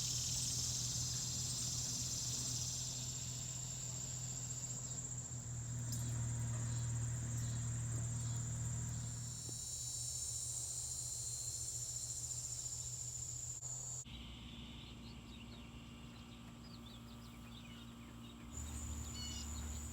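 Insects chirp steadily among wildflowers in very hot weather, a dense high buzzing chorus with a low hum beneath and faint bird calls.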